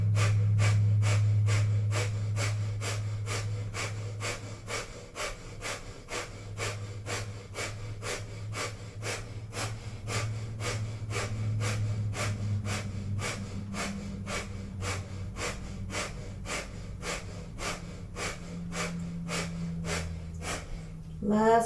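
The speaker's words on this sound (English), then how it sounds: "we'll begin powerfully panting like a dog through the nose, activating the core abdominal muscles" Breath of fire in a Kundalini yoga kriya: steady, rapid panting through the nose, a long even train of short sharp exhales kept up for about twenty seconds, close and moderately loud, with a low hum underneath.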